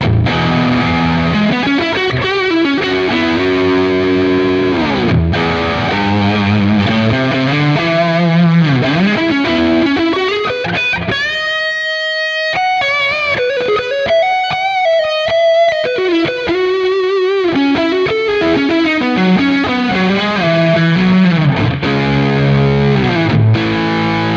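A thick, fuzzy distorted electric guitar through a Marshall amp plays a continuous riff with sustained, saturated notes and a brief higher melodic passage in the middle, loud and alone.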